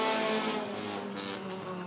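Race cars in a Bandits heat at Rockford Speedway roar off together at the start, a loud sustained engine drone with overlapping revving tones and no gaps.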